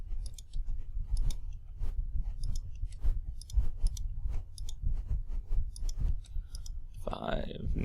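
Calculator keys clicking rapidly as matrix values are typed in, a steady run of small close taps over a low background hum, with a voice coming in near the end.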